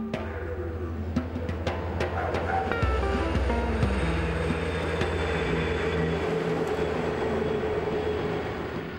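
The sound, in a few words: road trains (large trucks) passing on an Australian desert road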